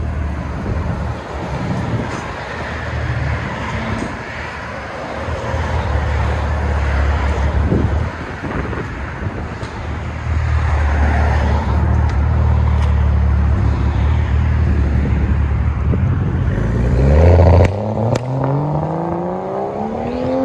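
A 2011 BMW 335i with a true dual straight-pipe exhaust rumbles at a deep idle outdoors, with wind buffeting the microphone, then revs sharply near the end, its note rising quickly.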